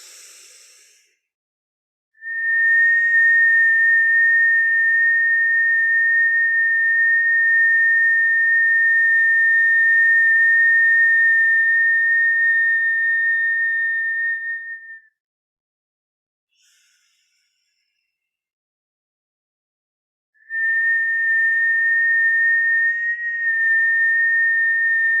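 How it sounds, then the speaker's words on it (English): Two long, steady, high-pitched whistles are made by exhaling through pursed lips during kundalini yoga breathing, each held for many seconds and separated by a short silence. "Feel the high vibrational sound of that whistle"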